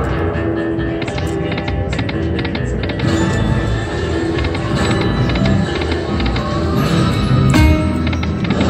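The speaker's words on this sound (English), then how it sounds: "all that noise you hear in the background is the James Bond machine" Casino floor din dominated by a James Bond slot machine, a dense continuous wash of electronic jingles, chimes and clattering tones at steady high loudness, with busy machine ambience behind it.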